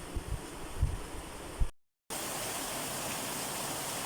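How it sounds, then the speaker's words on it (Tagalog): Heavy rain pouring down outdoors during a storm, a dense steady roar of rainfall that cuts out briefly and then resumes at full strength. "Tingnan ninyo, ang lakas ng ulan."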